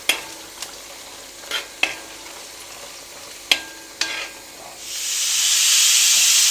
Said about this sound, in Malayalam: വെളുത്തുള്ളി ഇട്ട് നന്നായിട്ട് ഇളക്കി കൊടുക്കാം കേട്ടോ